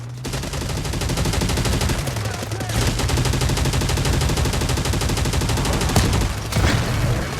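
Continuous automatic gunfire from the mobile shooter Delta Force Mobile in warfare mode, loud and dense bursts running through the whole stretch with a low vehicle engine drone beneath and no talk.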